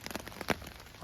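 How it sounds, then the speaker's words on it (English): Morning rain patters on a hammock shelter on a hiking trail, a brief burst of close, irregular drops tapping the fabric with no voices. "The rain came in sometime this morning."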